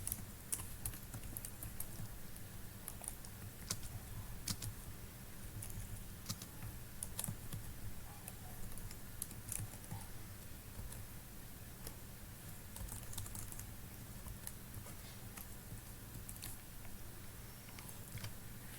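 Steady typing on a computer keyboard, with quick irregular key clicks and occasional louder taps, close and fairly quiet over a low constant hum.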